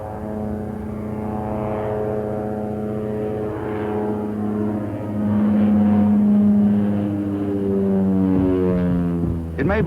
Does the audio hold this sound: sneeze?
no